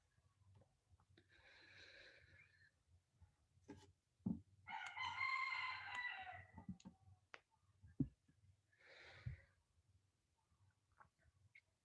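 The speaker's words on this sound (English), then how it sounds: "I don't know if you can hear the chickens, but they're very noisy here today." Farmyard chickens cluck in bursts and a rooster crows loudly once in the middle, the calls fairly close and separated by quiet gaps with occasional knocks.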